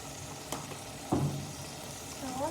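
Chicken curry frying in a pan, a steady sizzle with a couple of sharp stirring scrapes and clatters, heard close with no talking.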